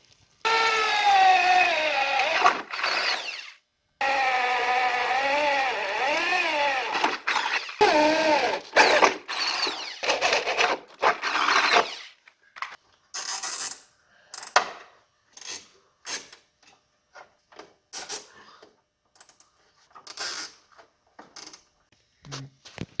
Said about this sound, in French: je vais percer un trou